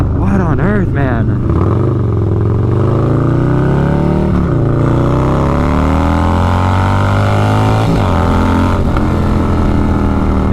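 A 150hp Harley-Davidson 131 motorcycle engine pulls hard while riding, a loud, close, deep rumble rising in pitch through several gear shifts with brief drops between them, wind noise over it.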